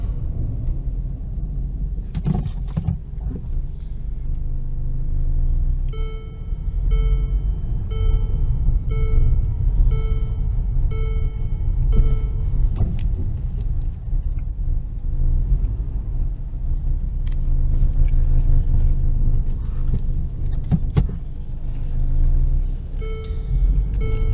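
An old $1000 Mercedes-Benz car backing up in reverse gear, its engine rumbling low and steady from inside the cabin, with a repeating electronic beeping tone and a few knocks and clicks over the drone.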